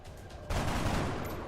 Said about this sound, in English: I guess we just take a couple shots.